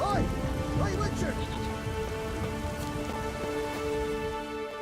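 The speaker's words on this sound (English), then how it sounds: "There's no point standing here in the rain." Steady rain pours throughout a scene in The Witcher video game, a dense hiss of falling drops under sustained musical tones, with a voice calling out briefly near the start.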